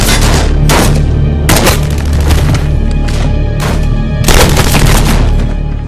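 Loud, dense gunfire from a WWII battle at a bridge, with repeated bursts of shots and booming blasts crowding one another over a constant low roar, with no gap in the din.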